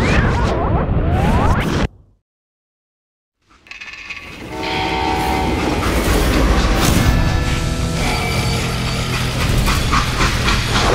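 A freight train in the video game Call of Juarez: Gunslinger rumbles loudly with a whistle-like tone, cuts to silence for a moment, then returns as a steady roaring clatter of rolling wheels.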